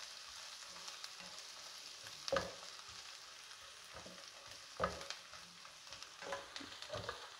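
Boiled chickpeas cook in a pan with a soft, steady frying sizzle. Several distinct stirring scrapes and clacks of a spoon against the pan recur every second or two.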